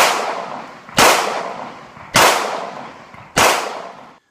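Three sharp, loud revolver shots from a Taurus 856, spaced about a second apart, each a sudden crack followed by a short decaying echo, with no talk.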